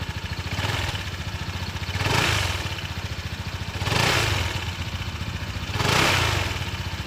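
A Honda ADV 160 scooter idles with a steady, close exhaust putter, then is revved three times in evenly spaced bursts that swell and fall back to idle.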